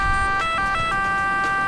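An Italian ambulance siren in the video game Emergency 4 with a Rome mod, a loud, steady, rhythmic wail with pulsing tones over low vehicle rumble.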